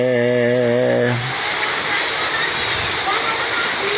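Heavy rain pours down in a dense, steady roar that fills the scene after a short tonal sound at the start, loud and unbroken to the end.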